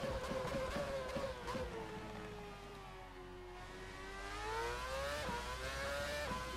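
A high-pitched 2013 V8 Formula One engine in Assetto Corsa screams and whines, its pitch dipping then climbing again as it revs, loud and continuous.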